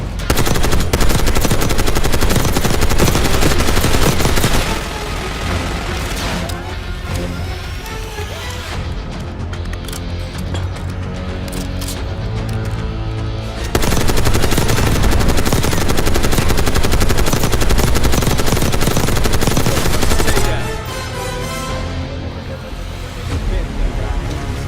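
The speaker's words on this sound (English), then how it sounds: "Take cover! Stay low until that minigun stops spinning." Minigun in Call of Duty Black Ops 6 roaring in long, loud sustained bursts with brief lulls, along with other gunfire and game action.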